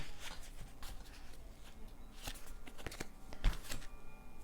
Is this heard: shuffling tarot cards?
yes